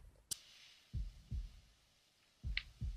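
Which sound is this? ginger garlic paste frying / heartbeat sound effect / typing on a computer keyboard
heartbeat sound effect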